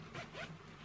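A zipper on fabric gives a quick, quiet zip close by, made of a couple of short rasping pulls in under a second.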